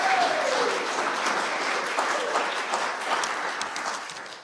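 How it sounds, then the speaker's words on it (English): An audience gives a round of applause at a council meeting, a full burst of clapping that slowly thins and fades. "He needs a round of applause."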